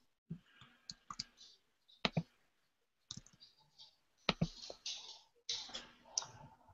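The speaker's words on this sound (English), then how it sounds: "You can hear my dog clicking on the floor" Sharp clicks and taps come in irregular bursts, like a dog's claws clicking across a hard floor, fairly close, with brief quiet gaps between.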